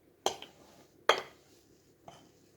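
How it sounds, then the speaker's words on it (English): Scone mixture tipped from a mixing bowl onto a floured work surface, heard as two sharp clattering knocks of the bowl close by with a fainter tap after, no talking. "And then tip out your mixture."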